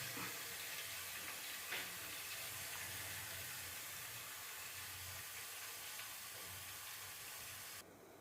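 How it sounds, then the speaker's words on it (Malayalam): Water comes to a boil in a pot for upma: a faint, steady, close hiss with a low bubbling rumble underneath, unchanging throughout. "അങ്ങനെ ഉപ്മാവിൻ്റെ വെള്ളം തിളയ്ക്കുന്നു"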